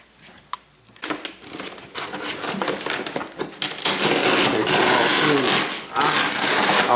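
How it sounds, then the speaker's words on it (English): Velcro tearing apart as back seat sections are pulled out during an interior disassembly, starting with a few light handling noises and then building into long, loud, close ripping bursts near the end. "Off the Velcro and pulling the back sections out."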